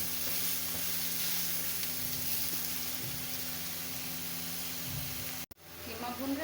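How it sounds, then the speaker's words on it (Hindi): Minced meat frying with spices in a pan, a steady close sizzle running throughout with a brief dropout near the end before the sizzling resumes. "कीमा भून रहा है हमारा।"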